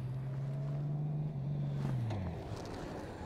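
A motorcycle runs a parking-lot braking and swerve exercise around an object, its engine note humming steadily nearby, then dropping as it slows, over a constant low outdoor rumble.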